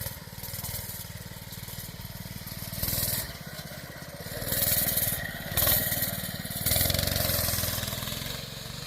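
A small engine runs steadily after a throttle adjustment, its buzzing drone rising in several short revs and settling back, loud and close throughout with no talking.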